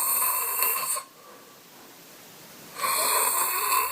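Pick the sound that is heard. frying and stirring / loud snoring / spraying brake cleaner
loud snoring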